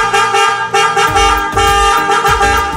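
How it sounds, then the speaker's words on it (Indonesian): A car's Denso snail horn, newly fitted to a Honda Brio, blares in a steady, loud, multi-tone honk, sounding for nearly three seconds with slight pulses and no pause. "terdengar sudah berbunyi klaksonnya"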